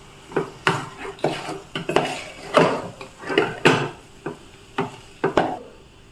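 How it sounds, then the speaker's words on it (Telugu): Spoon stirring thick jaggery and rice flour dough in a metal pan, with repeated close scraping and knocking strokes in an uneven rhythm, clear and alone. "మంచిగా గట్టిపడేంత వరకు కలుపుకోవాలి."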